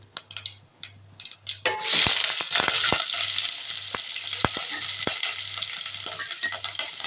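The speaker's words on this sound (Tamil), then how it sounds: "வெங்காயம் வதங்கிடுச்சுங்க." Onion, green chillies, fennel seeds and curry leaves fry in hot oil in a pan for a tomato sambar, giving a loud, steady sizzle with occasional stirring clinks against the pan. A low electrical hum pulses underneath.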